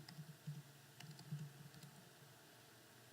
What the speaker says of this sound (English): I'm just going to type that out.